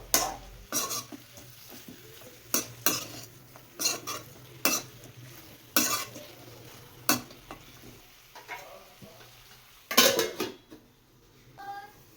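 Chicken fries with tomato in a pan for Guntur chicken, a soft sizzle running underneath while a spatula scrapes and clanks against the metal in irregular, close strokes, some louder bursts near the end.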